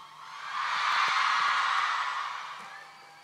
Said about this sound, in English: A round of applause for our lady and our gentleman over here.